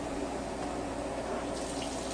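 Hot water running from a kitchen tap, a steady continuous splashing hiss at moderate level, with no voices.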